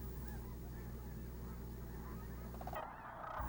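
Cranes call at the Bosque wildlife refuge, a steady run of nasal, honking cries over a dense hiss of outdoor ambience, with a short quieter gap near the end and no voices.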